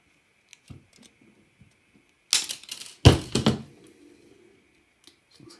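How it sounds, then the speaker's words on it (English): Shears snipping off excess material while an animatronic eye mechanism is built, two loud sharp cutting crunches close together in the middle, with small scattered clicks and handling taps around them in a quiet room. "And I can use my shears and cut off the extra"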